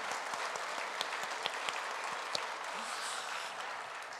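A church congregation gives a big round of applause during a revival service, dense and sustained clapping filling the hall, steady throughout with a few sharper claps standing out.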